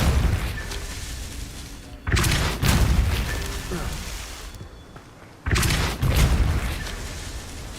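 The Depulso spell is cast repeatedly in the video game Hogwarts Legacy, heard as abrupt, booming, noisy blasts that cut in sharply, with long rumbling tails between them over a game soundscape.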